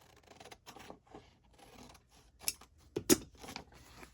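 Scissors cutting paper for a signature craft project, a series of quiet close snips and crisp cuts building to a couple of sharper louder clips near the end, with no speech.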